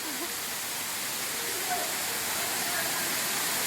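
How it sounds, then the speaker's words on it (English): A waterfall near rice terraces in Ubud, Bali, gives off a steady broadband rush of falling water, close and even in level throughout, with a faint voice under it. "Very nice waterfall."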